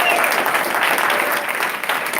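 An audience at an awards event claps steadily and loudly throughout, a thick unbroken wash of applause.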